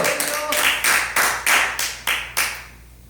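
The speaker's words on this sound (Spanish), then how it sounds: "Den un aplauso con todo su corazón." Church congregation claps in unison, about eight loud, evenly spaced beats in a strong steady rhythm, each with a short echoing tail, with a brief voice at the start.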